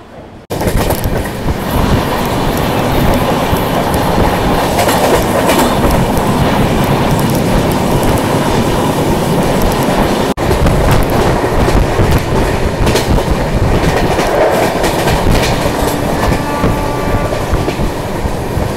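The Mandovi Express pulls out of Panvel station on its way from Mumbai toward Goa, rolling with a loud, sustained rumble of wheels on track and steady clickety-clack, with faint squeals later in the run and no talking.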